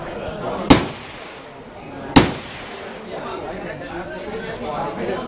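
Gunshots ring out at the Cu Chi tunnels shooting range in Vietnam: three sharp, loud reports spaced a second or more apart, with people talking in the background between them.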